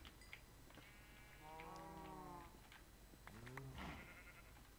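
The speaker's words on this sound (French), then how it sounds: "Il n'y a que des vaches et des moutons, il n'y a rien d'autre." Sheep in the video game Minecraft bleat in two separate calls, a longer wavering one and then a shorter one, heard clearly against quiet game ambience with no talking.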